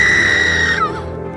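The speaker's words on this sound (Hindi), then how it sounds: "अचानक खुशबू जोर से चीखी।" A woman lets out a loud, high, sustained scream in a horror story that breaks off abruptly and trails into a lower wavering cry.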